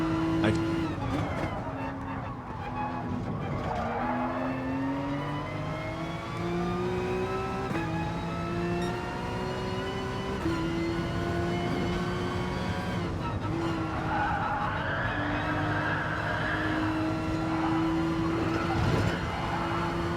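Gran Turismo race cars run side by side toward a corner on Dragon Trail Seaside or Fuji, their engines droning steadily and rising in pitch with occasional tire squeal. A voice talks throughout over the engine noise.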